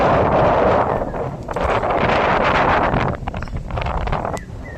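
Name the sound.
strong wind outdoors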